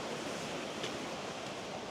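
A river waterfall in Glenariff Forest Park roars as a steady, broadband rush of falling water, heard from a moderate distance without any voices.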